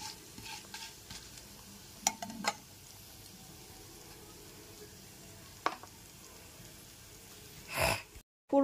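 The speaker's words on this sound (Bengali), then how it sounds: "গোটা জিরে, শুকনো লঙ্কা, তেজপাতাটা ভালো করে ভেজে নেব" Whole cumin, dried red chillies and a bay leaf frying in hot oil as a tempering for a Bengali soya chunk curry: a soft, steady sizzle with a few sharp spatula clinks and scrapes.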